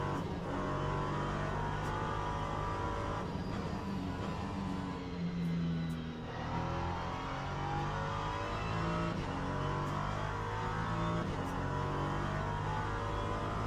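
A race car circles the Fuji track with a continuous, loud engine drone and rising and falling revs as it shifts through corners. The sound stays steady and close throughout, with no talk.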